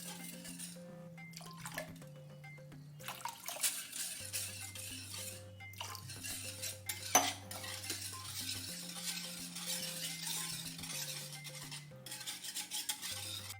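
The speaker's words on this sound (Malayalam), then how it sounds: "തൈരും കൂടെ ഉള്ളത് നന്നായിട്ടൊന്ന് ഉടച്ചെടുക്കാം. നമുക്കിതിൽ വെള്ളം ചേർത്ത് കൊടുക്കാം." Curd being mashed and stirred with water for a Kerala buttermilk curry, a steady wet stirring and scraping with light utensil rattles over a low background hum, continuous and fairly close, with no talking.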